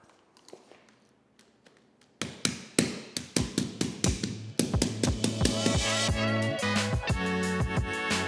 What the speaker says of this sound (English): Just line it up in the corner, knock down this corner, follow up the sides.